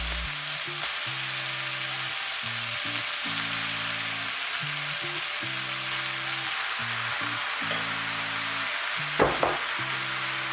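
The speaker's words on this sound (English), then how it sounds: "Fry for approximately 3 minutes and then add your rice" Rice frying in a pan for Cameroonian fried rice gives a steady, even sizzle throughout, with a repeating low background tone running underneath and a couple of brief scraping clinks near the end.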